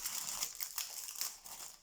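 Stuck plastic wrapping being peeled and crinkled up close, a quick run of crisp, crackling rustles with short bursts and pauses, quiet and heard alone.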